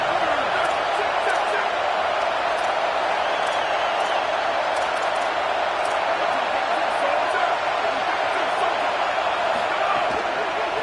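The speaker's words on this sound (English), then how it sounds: "This dog crowd is off the leash, and they are coming after them, bringing noise on 3rd down." Steady roar of a stadium crowd on third down in a football video game, a dense, unbroken wall of noise at constant loudness throughout.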